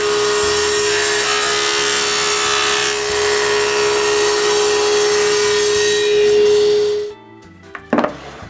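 A cheap hand saw blade cutting off excess plywood runners on a bench for a domino jig, a loud steady grinding rasp for about seven seconds that stops abruptly, followed by a short clatter.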